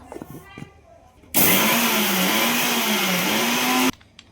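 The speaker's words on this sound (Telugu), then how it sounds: "నెక్స్ట్ ఆ షుగర్ని మిక్సీ పడుతున్నాను పౌడర్ లాగా" A mixer grinder powders sugar in one loud, steady whirring run of about two and a half seconds that starts and stops abruptly, after a few faint handling knocks.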